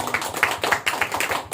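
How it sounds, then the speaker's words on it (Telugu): A church congregation claps their hands together in rhythmic bursts, sharp overlapping claps coming close and fairly loud in a brief run. "ఇంకా గట్టిగా చప్పట్లు కొట్టాలి."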